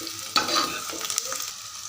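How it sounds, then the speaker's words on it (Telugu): Food frying in a pan, stirred until it browns: soft sizzling with a few sharp scraping clicks of the spoon against the pan, fairly quiet and close. "అంటే కొంచెం కలర్ తిరిగేంత వరకు బాగా అయితే మిక్స్ చేసుకోవాలి."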